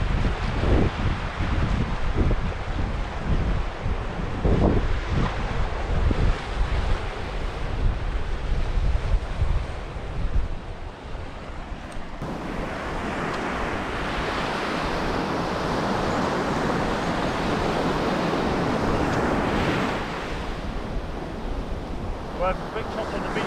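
Surf washes onto a beach at dawn, a broad steady roar mixed with gusts of wind buffeting the microphone, louder and rougher in the first half before settling into a continuous hiss.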